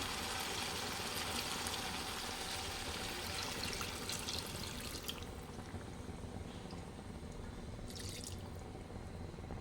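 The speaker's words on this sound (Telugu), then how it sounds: "సో ఇందులో కొంచెం వాటర్ పోసుకుందాం" Water poured into chicken curry cooking in a pot, a steady liquid splashing and trickling that runs continuously, fairly close and alone, easing slightly toward the end.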